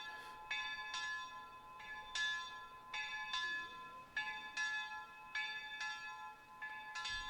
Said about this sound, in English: Oh nice, you could even see the bell swinging.